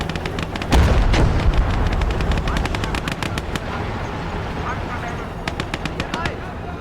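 Rapid machine-gun bursts crackle with scattered heavier booms of a tank cannon and gunfire in the WWII game Gates of Hell during a German frontal assault, dense and continuous, with a voice talking over the battle.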